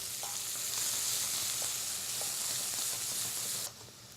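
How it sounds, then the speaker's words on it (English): Sliced leeks frying in a pan with fresh pepper, a steady close sizzle and hiss with a few faint stirring clicks, dropping quieter near the end. "We'll just let those leeks soften up a bit."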